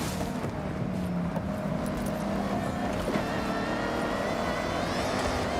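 A car engine in the racing video game Forza Horizon 6 drones steadily at high revs throughout, with a brief break around the middle suggesting a gear upshift before the engine note carries on.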